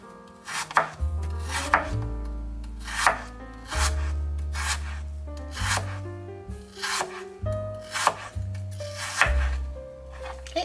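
A knife slicing apples thin for pie on a cutting board, a run of close, rhythmic chopping knocks and blade scrapes that comes in clusters with short pauses, and no one talking.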